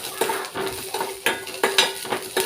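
Onion, dried red chillies and urad dal fry in hot oil with popped mustard seeds for a jackfruit thoran, with a faint sizzle under repeated clinks and scrapes of a spoon stirring against the pan.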